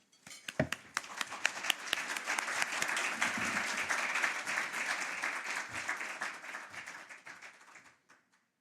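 An audience at a morning plenary session applauding to welcome panelists: scattered claps build quickly into full, steady applause that swells, then thins out and fades to a few final claps.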